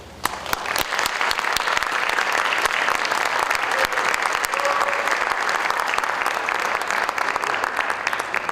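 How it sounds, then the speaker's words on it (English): An audience at a high school National Honor Society induction ceremony applauds, a dense, steady round of clapping from many hands that carries evenly throughout at full strength. "Another round of applause for Superintendent Kirby."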